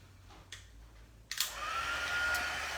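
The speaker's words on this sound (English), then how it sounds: "I'm gonna get my heat tool and set this" An electric heat tool is switched on to melt and set embossing powder on stamped paper, giving a steady, close blowing whir that starts abruptly after a few soft handling taps and runs on without letup.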